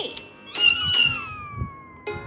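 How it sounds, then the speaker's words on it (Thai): Cats meowing in an advertisement for Mimi premium Japanese-grade cat food: a few clear, drawn-out meows, one sliding long and downward, with a final short meow at the end and faint background sound underneath. "น้องเหมียวพูดเป็นเสียงเดียวกันว่า"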